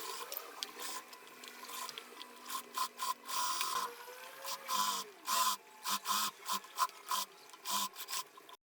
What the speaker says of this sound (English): Now I'm going to top stitch.